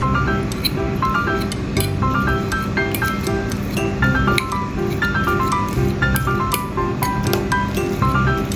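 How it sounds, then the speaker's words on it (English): Forks mash steamed sweet potatoes in a bowl, producing soft repeated squishes and light metallic clinks against the dish in a steady rhythm, close and fairly quiet. "Mash sweet potatoes thoroughly with forks."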